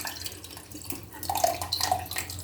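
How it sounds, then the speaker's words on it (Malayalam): Tamarind water is poured into a jar while a fish masala curry is prepared, a soft, uneven splashing and trickling that swells in the middle and continues to the end, with no talking. "ഇതിനകത്ത് നമുക്കത് പുളിവെള്ളം ഇട്ട് കൊടുക്കാം."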